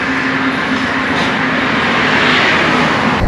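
A KTM Duke 390 motorcycle rides off during a monsoon trip from Ooty, giving a loud, steady, close roar of engine and rushing wind that holds for the whole stretch with no talking.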